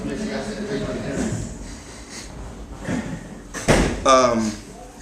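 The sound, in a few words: door slamming shut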